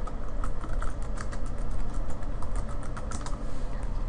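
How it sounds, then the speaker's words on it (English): Rapid typing on a computer keyboard to enter a library database search, dense clicking keystrokes in quick continuous runs, close and loud over a steady background hum. "In the search box, type your search."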